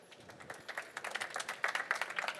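A small audience at a sustainability summit session claps, scattered hand claps building into light, fairly quiet applause over a couple of seconds.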